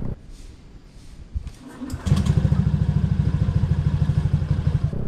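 Honda BeAT Street motorcycle with a 130 bore-up and 26mm throttle body: a brief starter whir catches, and the engine settles into a loud, rapid, pulsing idle close by.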